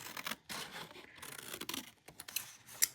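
Scissors snipping through a paper budget sheet close up, a quick series of soft crisp cuts and rustles with small clicks of the blades, quiet and without talk.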